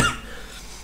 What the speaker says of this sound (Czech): Takže mám takový nějaký špatný kašel